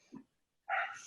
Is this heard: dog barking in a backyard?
yes